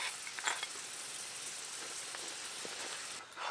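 Aloo paratha frying in hot oil in a pan, a steady dense sizzle with faint crackles and pops running throughout, briefly dipping near the end.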